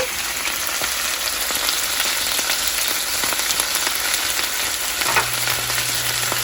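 Shrimp sautéing in a pan with thick leaf thyme just added, a steady loud sizzle and crackle of frying throughout, with occasional clicks and a low hum entering near the end; no one speaks.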